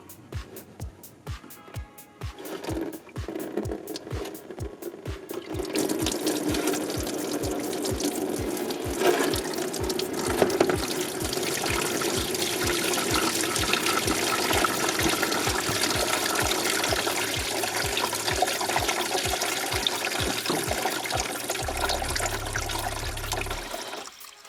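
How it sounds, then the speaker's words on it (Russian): Antifreeze coolant pours from a disconnected radiator hose of a Renault Logan with a K4M engine into a container, a continuous splashing stream accompanied by a regular ticking throughout. "Отсоединяем шланг от патрубка радиатора и сливаем жидкость в подготовленную емкость."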